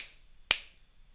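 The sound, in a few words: finger snap to trigger robot car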